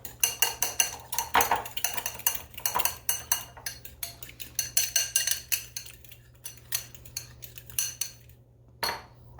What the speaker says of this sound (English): So we're going to beat these egg yolks. I just use a fork.